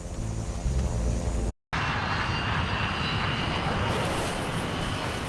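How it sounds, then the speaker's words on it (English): A King Air A90 twin turboprop taxiing, a steady droning engine hum with a layered tonal whine, briefly cut off by a gap, then a broader louder rushing roar. "A King Air A90, a much smaller twin turboprop, is taxiing out to runway 4."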